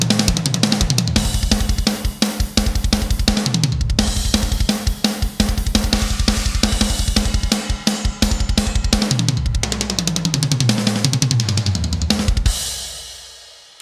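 A drum kit preset from the Extinction Level Event drum plugin plays a fast, dense, heavy pattern of punchy kicks, snares and crashing cymbals for about twelve seconds before ringing out into a decaying tail.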